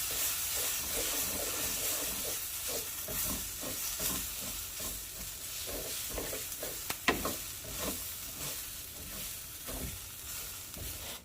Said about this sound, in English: I'm going to cook the tomato paste and kind of mix it in with the rice for a minute or so.